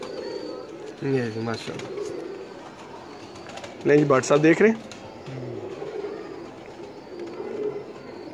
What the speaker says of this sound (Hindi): कसूरी कबूतर।